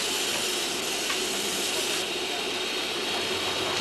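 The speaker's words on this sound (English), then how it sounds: "A nice head of steam and enough water." A 3.5-inch gauge model steam locomotive gives off a steady, loud, broadband hiss of steam that continues without a break for several seconds, close to the microphone.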